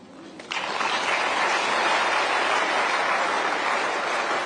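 Audience applause breaking out at a National Commission for Women foundation day event, starting abruptly and holding as a steady, dense clapping that fills the room without speech.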